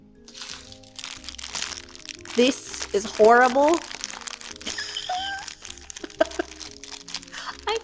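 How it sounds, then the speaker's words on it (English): Plastic bag crinkling and crunching in bursts near the microphone, mixed with rustling handling noises while a person talks over it and background game music plays. "Okay, plastic bag."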